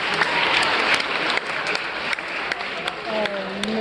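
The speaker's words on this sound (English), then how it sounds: "Everyone give her a huge round of applause." Audience applause fills an event hall, a dense steady patter of clapping sustained at even loudness throughout, with crowd voices mixed underneath.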